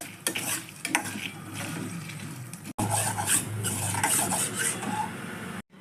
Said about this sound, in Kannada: 1/4 ಸ್ಪೂನಷ್ಟು ಮೆಂತ್ಯ, 2 ಒಣಮೆಣಸನ್ನು ತುಂಡು ಮಾಡಿ ಹಾಕ್ಕೊಂಡಿದ್ದೀನಿ. ಈಗ ಇದನ್ನು ಕೆಂಪಾಗೋ ಥರ ಹುರ್ಕೊಳ್ಳೋಣ.